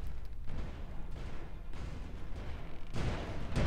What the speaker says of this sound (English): but that's definitely some guns firing. There's more artillery.